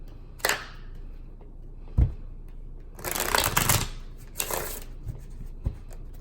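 Tarot cards being shuffled close up, with two riffling bursts of rapid flapping card noise in the middle, surrounded by a few soft taps and knocks of cards on a surface; no talking.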